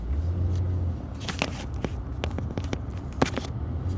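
Car on the road heard from inside, a steady low engine and road rumble with scattered small clicks and scrapes close by, and no talking.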